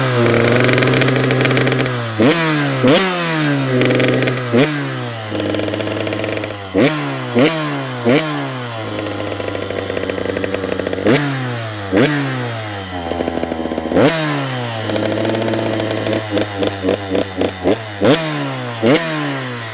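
A 150 dirt bike engine idles close by, a low uneven putter broken by repeated sharp throttle blips and revs.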